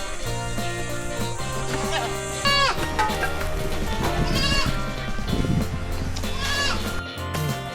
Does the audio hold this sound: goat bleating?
yes